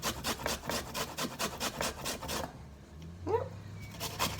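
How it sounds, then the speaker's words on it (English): Garlic is rubbed against a kitchen grater in quick, rhythmic rasping strokes, close and soft, that stop halfway through and leave quiet handling noises behind. "as I've got my grater out, I'm actually just going to grate it"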